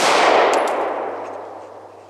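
One sharp, loud pistol report from a Beretta handgun fired at long range, the blast fading away over two seconds with faint ringing metallic clangs of rounds striking a distant steel target.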